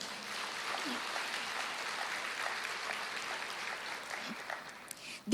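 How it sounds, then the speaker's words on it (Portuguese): A church congregation applauding during a Portuguese-language sermon, a soft, steady wash of clapping that sounds fairly distant and even throughout, with faint voices mixed in. "Vamos aplaudir ao Senhor."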